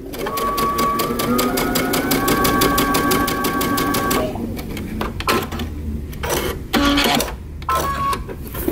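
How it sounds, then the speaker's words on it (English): Sewing machine stay stitching fabric on a tee shirt or vest, a fast even needle rattle for about four seconds, then stopping and restarting in short bursts. "pivot and then sew for a good 3 inches. Stay stitching in the other direction"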